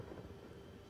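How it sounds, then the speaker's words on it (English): Rolling thunder from the video game Hotline Miami 2, a steady faint rumble with rain-like hiss throughout, no voices. "Thunder's so loud."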